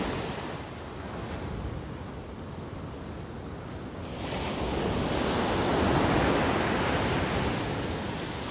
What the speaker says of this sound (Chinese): 海浪啊，一浪又一浪。